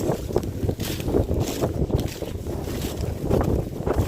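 Wind blows outdoors, buffeting the microphone with a loud, rumbling, gusty roar that rises and falls steadily throughout, with no voices.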